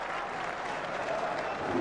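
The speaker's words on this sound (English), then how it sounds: "This crowd have gone absolutely wild." A cricket crowd's Bangladesh contingent cheers and applauds wildly for a fast fifty by Ashraful against England, a dense, loud roar of clapping and shouting that swells toward the end.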